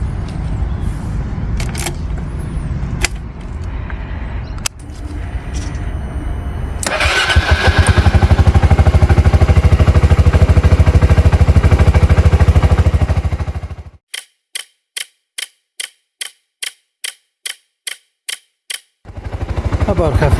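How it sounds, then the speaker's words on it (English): A Suzuki Burgman 400 K7 scooter engine cranks a few times, catches and idles roughly and loudly, then cuts out, followed by a series of sharp, regular clicks. "let's start the motorcycle to run it for about half a minute"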